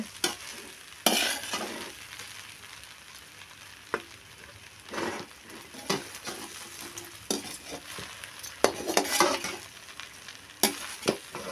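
Chicken fried rice is stirred in a pan, restaurant style, with repeated scraping strokes of a utensil over a soft sizzle, close by, coming in irregular bursts with no voices.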